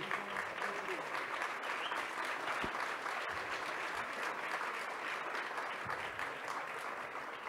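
Audience applause at a panel discussion on sea rescue survivors and refugees, a sustained, moderately distant wash of many hands clapping that holds evenly for several seconds.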